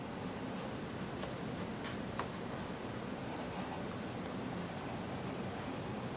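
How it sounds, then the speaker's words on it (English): Colored pencil scratching steadily across paper, a continuous dry, gritty scraping with faint strokes, close and fairly quiet with no talking; the pencils are from a Newbourne Media coloring kit and are noticeably scratchy. "can you hear the pencil on the paper? It just kind of tells you that these are a little bit scratchy"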